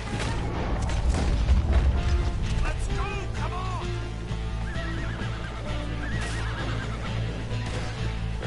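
Horses whinny and hooves clatter as riders arrive in Red Dead Redemption 2 during a bank robbery in the town of Valentine, with loud neighs over mechanical clicks and rumbling game sound.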